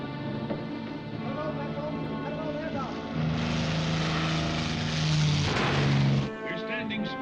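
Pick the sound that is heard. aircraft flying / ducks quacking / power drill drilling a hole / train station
aircraft flying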